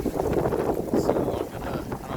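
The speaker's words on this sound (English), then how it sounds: "It's windy. We got a front coming in." Strong gusty wind buffets the microphone outdoors ahead of an incoming weather front, a continuous low rumbling roar.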